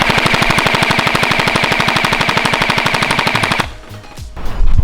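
A LeHui AUG gel blaster fires a long, fast, evenly spaced full-auto burst of sharp mechanical cracks, loud and close, running about three and a half seconds before stopping abruptly, followed by a few quieter handling clicks.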